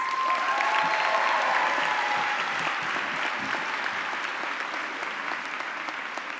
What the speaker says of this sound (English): Please join me in a round of applause for our 2022 Order of Arete recipients.